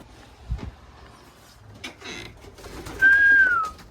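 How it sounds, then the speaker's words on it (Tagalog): A pet pigeon coos softly nearby, with a few low murmurs and light handling noises before a clear, sustained call near the end. "Silipin natin yung aking kalapati"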